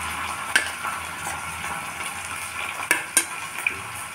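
Onions and ginger garlic paste frying in a pan for a mixed vegetable curry make a steady close sizzle, broken by a few sharp clinks of a spoon against the pan.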